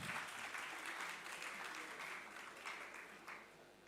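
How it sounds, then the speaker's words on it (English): Spectators at a national investment quiz competition applaud the contesting school teams, a steady, even wash of many hands clapping that holds at constant volume throughout, heard from a distance. "Please clap for them."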